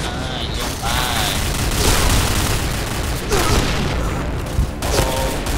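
AK-47 gunfire in a shooter video game, with repeated bursts and booms rattling continuously over a dense, loud background for several seconds, and no talking.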